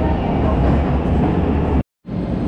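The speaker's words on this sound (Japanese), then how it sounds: "これで電車に乗ります。" Steady rumbling of a train running, loud and continuous, with a brief moment of silence near the end before the rumble resumes.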